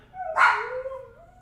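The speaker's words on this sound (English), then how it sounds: "Bunch of dogs barking." A dog lets out a single loud bark or yelp that trails off into a wavering whine, close by with no other sounds around it.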